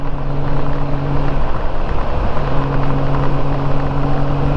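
Honda Goldwing GL1500 motorcycle cruising on a highway at night, a loud, steady engine drone with a constant hum and rushing wind noise, unbroken and close throughout.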